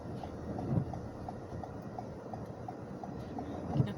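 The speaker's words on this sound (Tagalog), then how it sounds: "oh, mahangin pa." Strong wind gusts during a Minnesota snowstorm, a steady broadband rush recorded from inside a moving car, with faint rhythmic thumps recurring throughout and no speech.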